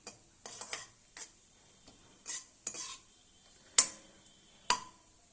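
Cashews are stirred while frying in a pan, sparse scraping clicks of a spoon against the metal coming in short, irregular bursts over a faint background sizzle, with no voices.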